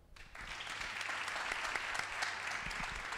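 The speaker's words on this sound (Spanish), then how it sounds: "SPG Woman, un aplauso" Audience applause for the SPG Woman brand at a curvy fashion model event, a dense, even roar of clapping that sounds somewhat distant and muffled.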